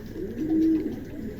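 A King pigeon, one of a pair offered for sale, gives a single soft, low coo that swells and fades in the middle of a short stretch, close to the listener, with no talk.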